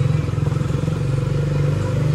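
A KTM Duke 250 motorcycle runs as it sets off, its engine holding a steady, loud, pulsing drone close by with a faint rattle over the top.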